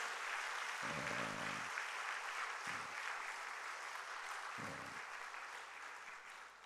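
Applause from a Baptist church congregation honoring its retired pastor, soft and distant, steady throughout with a few brief low tones cutting in.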